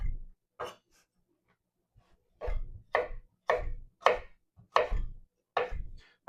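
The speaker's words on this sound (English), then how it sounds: "cut it into like a julienne" A kitchen knife slices zucchini into julienne strips on a cutting board with crisp, evenly spaced chops, about eight sharp knocks at a steady rhythm, close and fairly quiet.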